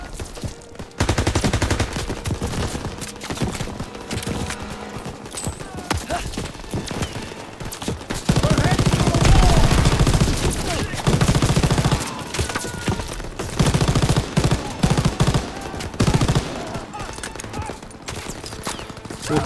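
Machine gun fire in the PS4 game Call of Duty WWII during a D-Day mission: dense, loud bursts of automatic shots that rattle almost nonstop for most of the stretch, with a voice now and then.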